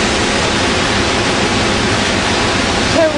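Iguazu Falls on the Brazilian side roars as water crashes down and sprays up, a loud, dense, unbroken rush of white noise filling the whole moment, close and overwhelming.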